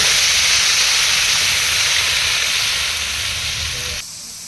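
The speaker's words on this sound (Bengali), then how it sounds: "মাছের বাজার আসল স্বাদই এই পেঁয়াজ বাটায় দিয়ে দিলাম।" Onion paste frying together with fried fish in a pan at an outdoor village picnic, giving a loud, steady, close sizzling hiss that carries on without pause, then drops noticeably quieter near the end.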